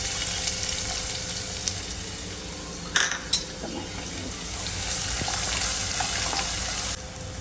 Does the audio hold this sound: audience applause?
no